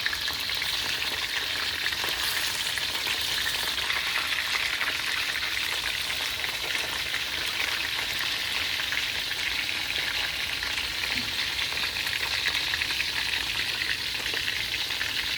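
Shrimp browning in a hot pan for pineapple shrimp fried rice gives a steady, close, dense sizzle and crackle that runs evenly throughout with no talking.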